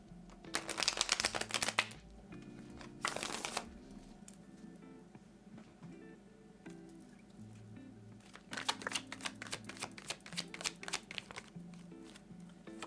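Rider-Waite tarot cards are shuffled in two quick flurries of crisp riffling, then a longer run of soft shuffling and card handling follows, close and fairly quiet, with no talking.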